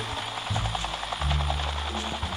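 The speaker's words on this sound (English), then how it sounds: "I hear another helicopter" A helicopter passes overhead in the survival battle game Knives Out, its steady rhythmic blade thumping carried over a low engine drone, fairly close and unbroken for the whole stretch with no talking.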